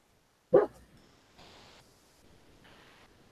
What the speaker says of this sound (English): He's barking under his breath.